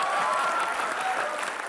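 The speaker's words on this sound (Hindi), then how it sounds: "हाँ, तालियां" Studio audience at a televised Indian comedy show clapping in a brief, even burst of applause without a clear start or finish.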